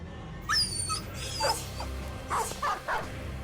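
A dog in the video game Battle Brothers whimpers and yips in several short, high whines spread across a few seconds, set over a steady low game ambience with no speech.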